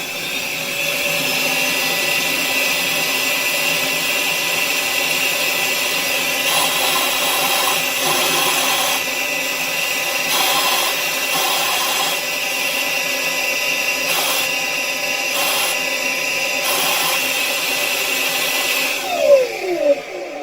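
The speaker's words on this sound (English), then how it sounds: "you can hear air rushing past the sealing surface of the valve" The secondary air pump on a BMW X5 runs as a loud, continuous whine, pushing air that rushes past the sealing surface of a valve. Faint clicks and shifts sound partway through, and a brief rattle comes near the end.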